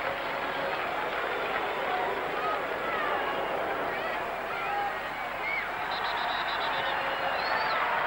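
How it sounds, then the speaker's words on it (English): Football crowd in Philadelphia roaring steadily after a goal against England at a 1976 NASL All-Stars match, a broad continuous swell of distant cheering and babble filling the whole stretch. "Well, that's cheered up the crowd in Philadelphia."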